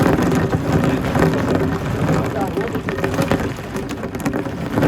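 Steady rain pours down during a storm at the Kok Tobe cable car in Almaty, a dense, continuous wash of drops and rumbling wind noise that stays loud throughout with no voices.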